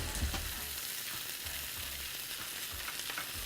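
Peppers, garlic and capers fry in a pan with a steady, close sizzle and faint stirring scrapes, alone with no talk.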